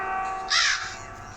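A single crow caw rings out in the Granny video game, one short, loud call midway through a quiet, humming backdrop.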